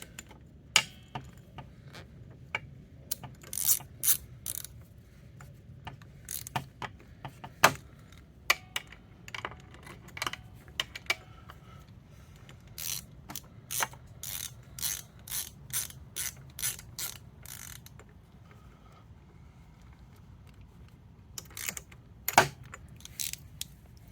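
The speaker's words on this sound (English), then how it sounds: "we're just gonna tighten this up and see how it does after it's tightened" A ratchet wrench tightens the front sprocket bolt on a Lifan KPR 200 motorcycle, giving close, sharp clicking bursts in irregular runs with pauses between strokes over a quiet background.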